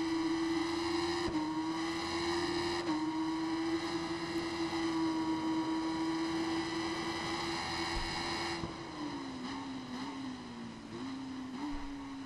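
In the RIDE 5 racing game, a motorcycle engine holds a loud, steady high-pitched whine at Interlagos in the rain, with a few brief shifts and dips in pitch toward the end.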